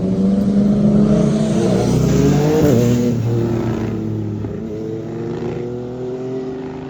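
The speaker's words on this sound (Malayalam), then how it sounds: "ബൈക്ക് ഉണ്ട് കേട്ടോ, സൂപ്പർ ബൈക്സ്." A superbike engine revs loudly and close by on a street in Calais, France, with a strong steady drone that climbs and dips in pitch before easing off slightly, with no voices over it.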